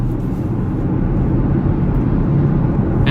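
Steady low engine drone and road rumble from inside a Porsche Panamera 4S cruising in sixth gear, a loud, even, bass-heavy hum with no talking.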